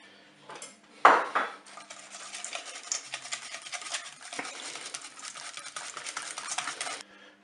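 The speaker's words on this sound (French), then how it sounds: "Et on va mélanger les œufs" Eggs and sugar are whisked in a bowl, beginning with a sharp clink and then a steady, fast metallic scratching and rattling that goes on close and even before it stops abruptly.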